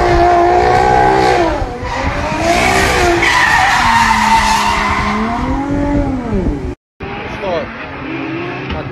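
Drift cars at stage 2 of the RDS GP 2021 series skid with loud tire squeal over rising and falling engine howls. The noise is continuous and near, with a brief cut-out late on.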